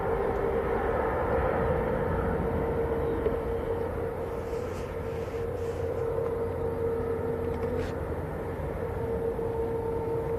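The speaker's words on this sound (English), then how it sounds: "A350 going out to Doha" An Airbus A350 departs Manchester Airport for Doha, its engines a steady, fairly distant roar holding for the whole stretch with no talk over it.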